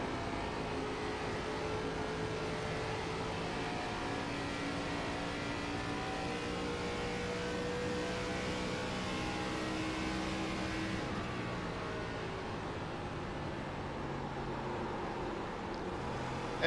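A simulated ARCA Menards Series race car engine in the iRacing video game at Mobility Resort Motegi drones steadily and continuously at fairly low revs, holding a smooth, even pitch with no talk over it.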